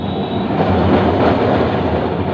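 A Kolkata tram running on rails heard from on board, a loud, continuous rumble and rattle of wheels and carriage with no break.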